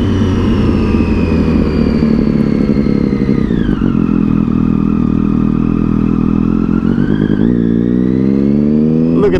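Triumph Daytona 675R sport motorcycle riding on the road, its engine loud and steady with a strong harmonic drone that dips as revs fall, then climbs again as it accelerates, continuous throughout.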